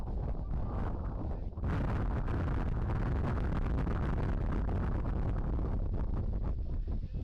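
Gusty wind, up to about 27 mph, blasting across a microphone at a soccer stadium, a loud, constant buffeting roar with a short dip early on before it surges back and holds.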